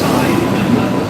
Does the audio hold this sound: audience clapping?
no